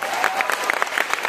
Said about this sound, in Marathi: एकदा जोरदार टाळ्या या जोडीसाठी